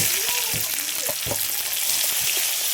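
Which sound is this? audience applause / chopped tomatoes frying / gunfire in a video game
chopped tomatoes frying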